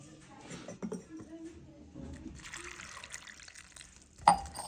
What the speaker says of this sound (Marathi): आता आपण ह्या स्वच्छ पाण्यात धुवून घेऊ वाटीमध्ये टाकून